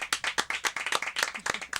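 Hands clap in applause, a rapid run of sharp, fairly quiet claps with no voices over them.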